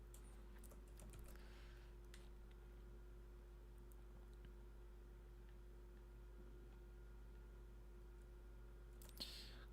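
Faint keyboard typing while entering a package name during a web programming session, soft scattered key clicks over a steady electrical hum, with no talking.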